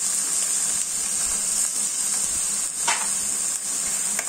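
Chopped onion frying in a pan for kolambi rassa, a Maharashtrian prawn curry, giving a steady close sizzle and hiss with a few faint stirring scrapes, no talking.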